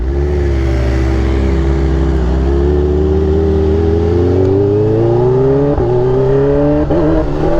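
A Kawasaki Ninja H2 motorcycle engine revs loudly and close while being ridden, its pitch climbing steadily through the gears with brief dips at the shifts, alone without talk.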